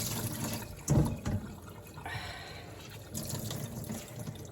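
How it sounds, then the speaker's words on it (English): Water is squeezed by hand out of blanched stinging nettles in a kitchen, giving close, soft wet squelches and a brief drip and trickle, with a stronger splash near the start. "Now you want to squeeze all the water out of them"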